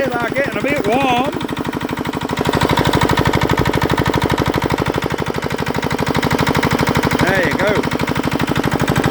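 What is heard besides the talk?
Petter diesel compressor engine running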